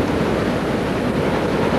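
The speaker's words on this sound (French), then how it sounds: "les vagues s'abattent contre le sable des côtes" Ocean waves break onto a sandy shore as a steady, dense wash of surf with no clear pauses between breakers.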